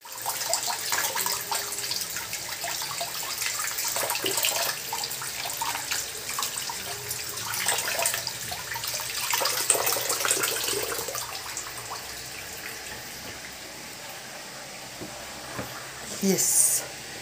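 Tap water runs into a kitchen sink while a leaf is washed for cooking. The flow is steady, with splashes and clatter rising and falling across the clip, and a short louder burst near the end.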